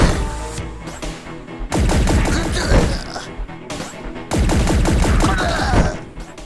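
Rapid bursts of gunfire in the twin-stick shooter game Sleep Tight, loud dense volleys in two long stretches separated by brief lulls, layered over game music and effects.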